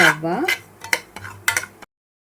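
Semolina (rava) is stirred while frying in a pan, with a few sharp scraping and clinking strokes of a utensil against the metal, close and fairly quiet, ending abruptly.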